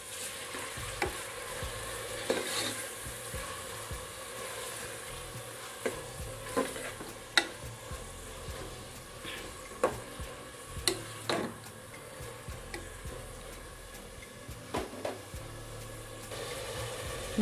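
Ginger and a large tomato being stirred together in a pot while they fry, soft sizzling under a steady scrape with scattered sharper clinks of the spoon against the metal, moderately quiet, no talking.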